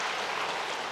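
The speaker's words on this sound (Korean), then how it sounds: "우리 박수로 환영하도록 하겠습니다" Members of a Korean church congregation give a brief burst of steady applause to welcome newcomers during a Sunday worship service, a dense even patter of clapping.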